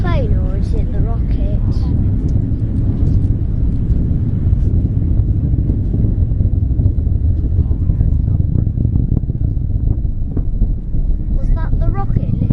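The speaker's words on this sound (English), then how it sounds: "Was that the rocket lifting off?" A rocket lifts off in the distance, a steady, heavy low rumble and roar that fills the whole stretch without letting up, mixed with wind buffeting the microphone.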